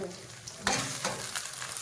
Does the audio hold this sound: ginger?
yes